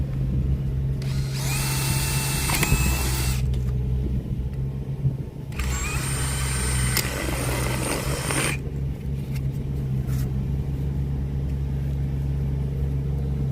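A power drill with a 9mm bit bores through PVC or corrugated drainage pipe in two loud, whining bursts of several seconds each, over a constant low mechanical hum.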